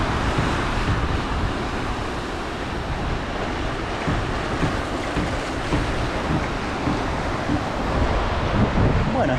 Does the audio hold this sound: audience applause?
no